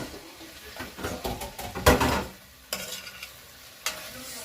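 Garlic, thyme and pepper are stirred in a pot, producing a few scraping and clattering stir strokes over a soft sizzle, with one louder scrape near the middle and brief knocks afterward, no talking.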